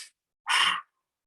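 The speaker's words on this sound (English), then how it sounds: "it's going to be strong, powerful breaths that derive from our solar plexus" A strong, forceful breath pushed out through the mouth as a short breathing exercise, one close rush of air lasting under half a second after a faint earlier breath.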